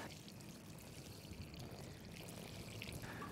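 Rinse water from cleaning paint brushes and tools, poured onto the ground at a building site, gives a steady, continuous close pour with no pause and no one talking.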